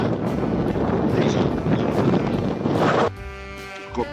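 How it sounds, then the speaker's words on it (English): Strong wind buffets the microphone outdoors on a windy nature walk, a loud roaring rumble for about three seconds before it drops away, leaving fainter, thinner sounds. "God, it's really windy."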